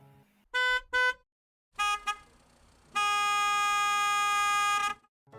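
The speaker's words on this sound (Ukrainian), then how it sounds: "Це сигнал автомобіля." A car horn honks twice in short beeps, then gives a brief double toot and finally one long sustained blast, loud and close.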